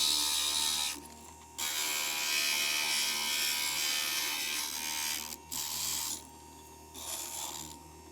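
A stained glass grinder whirs against a piece of glass with a steady high buzzing hum. It cuts out briefly several times and then resumes, heard up close with no talking.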